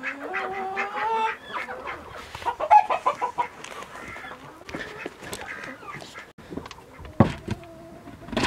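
Chickens cluck and squawk nearby in an uneven chorus, with overlapping calls, a rooster-like cry, and scattered sharp clucks throughout.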